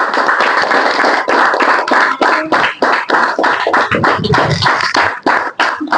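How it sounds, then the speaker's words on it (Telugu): Children clapping together at a village event at a Mother Teresa ashram, a dense, loud, steady round of applause close by that continues without pause for the whole stretch. "క్లాప్స్ కొట్టండి పిల్లలు."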